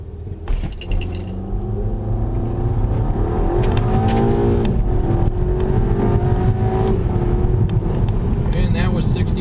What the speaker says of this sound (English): One really cool feature about this car is it has launch control.